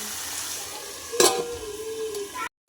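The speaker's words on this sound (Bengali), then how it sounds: "এখন কষে নিচ্ছি" Mutton masala is sautéed in a pan with hot water splashed in. A steady sizzle is broken midway by a sharp metallic clatter, then the sound cuts off abruptly.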